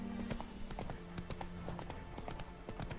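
Steady clip-clop of horse hooves trotting at an even rhythm in The Witcher 3: Wild Hunt – Hearts of Stone, quiet and close, with soft background ambience.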